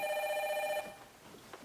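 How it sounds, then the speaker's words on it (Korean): A home landline telephone rings loudly with a steady electronic trill for under a second, then cuts off and leaves quiet room tone. "갑자기 집 전화벨이 막 시끄럽게 울렸어요."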